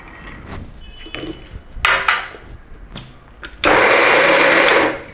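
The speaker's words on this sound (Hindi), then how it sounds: "सबसे पहले मटर को दरदरा होने तक मिक्सर में ग्राइंड करके लेंगे।" An electric mixer grinder coarsely grinds green peas in short pulses. Brief whirring bursts are followed by one longer, loud, steady grinding run.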